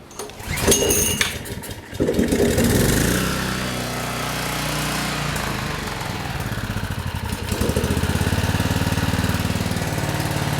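A trash-picked Generac Briggs & Stratton 4000XL generator cranks with a few sharp pulls, then its engine catches at full choke and runs steadily, loud and close, the rhythm turning rougher and louder near the end.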